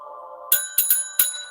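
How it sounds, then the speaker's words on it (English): A bell rings in a few sharp, bright strikes with ringing overtones over a steady electronic tone; no voices. "bell has rung for the final time"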